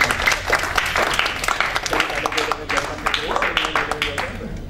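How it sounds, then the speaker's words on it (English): Audience applause at an information system project management seminar: a burst of many hands clapping in a room for about five seconds, with voices mixed in, fading slightly toward the end. "Give applause for your friends."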